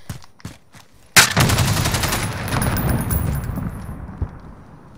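Gunfire in the video game Modern Warfare during a gun game match: a few sharp, close shots, then a sudden loud blast that gives way to a sustained rumbling roar that slowly fades.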